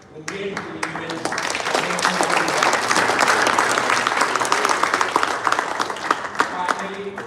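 Audience at a community ambulance handover event gives a round of applause, steady dense clapping that swells and holds for several seconds, with voices mixed in.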